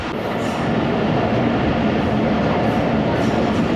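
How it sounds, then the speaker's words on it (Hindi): Jaffar Express train pulling into Okara railway station in Pakistan, a steady loud rumble of rolling carriages with faint rail clatter throughout, no clear voices. "ओकाड़ा रेलवे स्टेशन पहुंच रही है ट्रेन"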